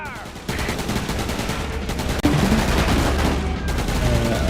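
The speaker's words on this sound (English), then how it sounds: "Taking fire! Taking fire!" Gunfire in the vehicle combat game Roadkill, a dense sustained burst of rapid shots that runs almost the whole time over a rumbling engine-like drone, loud and close, with one sharp jolt partway through.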